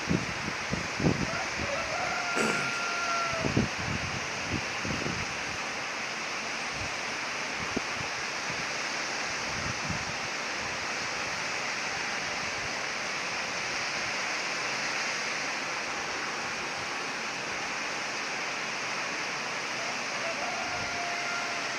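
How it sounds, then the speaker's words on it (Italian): Northeast blizzard wind roars as a steady, broad rushing noise close to the microphone, with a few soft thumps and brief faint sounds early on. "Una emerita bufera"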